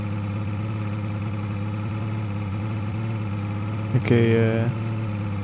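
Car engine idling in DayZ Standalone, a steady low hum holding close and even, then briefly revving up near the end as a voice speaks over it.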